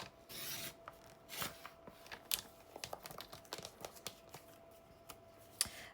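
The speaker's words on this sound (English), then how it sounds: "So let me pull my paper trimmer in. And we're just going to trim this up so it's nice and even." Paper trimmer slicing a paper card on a craft table: a series of soft scraping, clicking strokes with small sharp ticks, close and fairly quiet, with no voice over them.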